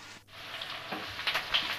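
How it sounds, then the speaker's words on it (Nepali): Onion and garlic fry in a pan, a faint, close hiss with soft crackling sizzles that rise and fall over a couple of seconds. "अब मैले यो प्याज अनि लसुनलाई रातो हुने गरी भुट्छु"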